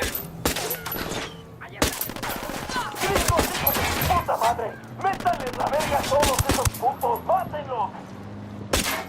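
Gunfire from the video game Ghost Recon Wildlands, with sustained bursts of automatic fire and several sharp single shots over roughly nine seconds, loud and close, with voices speaking throughout.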